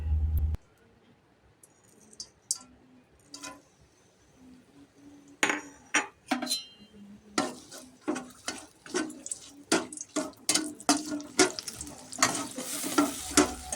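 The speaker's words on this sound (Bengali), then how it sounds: "এই পর্যায়ে তেলে রেডি করা মশলা দিয়ে ভালো করে নেড়ে চেড়ে" Prepared spice paste hitting hot oil for doi potol, quiet pan clinks at first, then a burst of sizzling and a busy run of spoon scrapes and rhythmic stirring strokes, close up.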